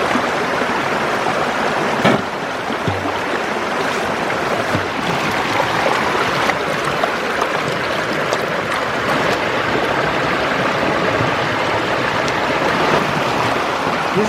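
Rushing water at the base of a waterfall on a gold-bearing river, a loud, continuous broadband roar with steady turbulent splashing and no voices.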